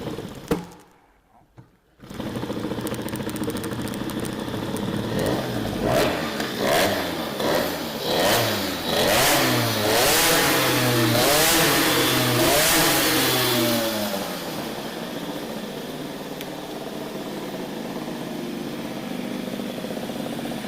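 A Peugeot 103 SPX moped with a two-stroke engine and a Doppler cylinder head fires up after a brief pause, then revs repeatedly in rising and falling whines before settling into a steady, buzzing idle, close and loud.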